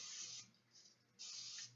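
An olive oil spray can hisses in two steady bursts, a close, bright spray with a short pause between them, soft and alone.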